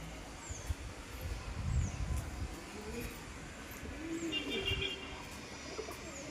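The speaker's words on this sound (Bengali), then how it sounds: "সব থেকে ওপরে যে কবুতরটা উঠছে এই কবুতরটা হচ্ছে নতুন কবুতরটা" A new pigeon settling on a house rooftop gives a few faint, low, rolling coos, with brief distant bird chirps and soft outdoor background noise.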